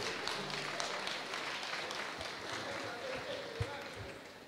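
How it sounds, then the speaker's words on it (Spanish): Applause at a university awards ceremony for estudiantina music contest winners, honouring the third-place architecture school group. Soft, continuous clapping from the audience runs throughout, with some voices mixed underneath. "fuertes los aplausos para ellos"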